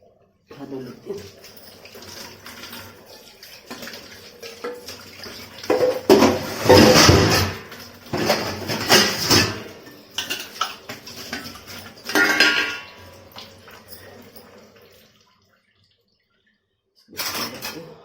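Dishes and utensils being washed under running water in a home kitchen, with clattering of pots and cutlery and water splashing in irregular bursts, fairly close, then a brief pause before more rinsing.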